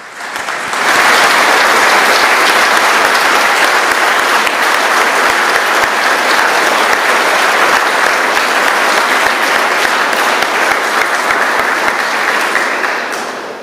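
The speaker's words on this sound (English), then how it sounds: "giving them a round of applause" A church congregation applauds children at a primary school confirmation service, loud continuous clapping rising quickly and holding steady for over ten seconds before easing off.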